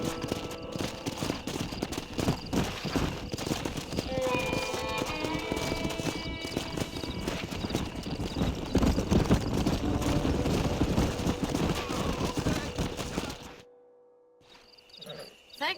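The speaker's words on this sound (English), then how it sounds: "We got some fine horses." Horse hooves clip-clop steadily in the Red Dead Redemption video game, a rhythmic trot over ambient crickets and insects with a brief whinny, continuing for about thirteen seconds before cutting to near silence.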